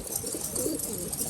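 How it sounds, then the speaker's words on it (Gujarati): Pigeons coo softly and continuously as they are fed, a flock of many birds making low, rolling calls at moderate distance over a steady background. "આમ જો આ બધા કબૂતર"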